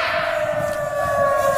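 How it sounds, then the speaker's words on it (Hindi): Air raid emergency siren sounding in Lhasa, Tibet, a loud steady wailing tone with strong harmonics, held throughout without any talking. "कल चीन ने तिब्बत की राजधानी लासा में एयर रेड सायरन बजाए।"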